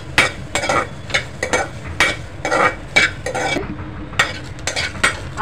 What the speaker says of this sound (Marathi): या हिरव्या मिरच्या कट केलेल्या आहेत त्या तेल न घालता अगोदर आपल्याला हे थोडंसं परतून घ्यायचं आहे